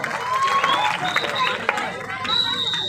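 Crowd applause and cheering welcome a guest onto the stage at a kabaddi match, a steady wash of clapping and voices throughout with whistles rising over the noise.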